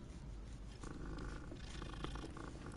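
A cat purring in a Hogwarts video game, a close, continuous rumbling purr that holds steady throughout with no speech over it.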